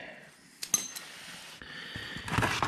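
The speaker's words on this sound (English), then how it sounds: "We bring our oil pan over here." Metal oil pan handled and set down beneath a Honda CB500F motorcycle for an oil change, a few sharp clanks and clinks followed by scraping metallic rattles, close and fairly quiet.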